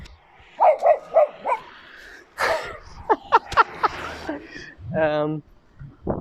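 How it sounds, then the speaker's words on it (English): Several dogs bark in the evening in an Italian neighbourhood, sharp repeated woofs and yips from nearby and farther off, interspersed with someone talking. "in the evening, dogs are crazy here"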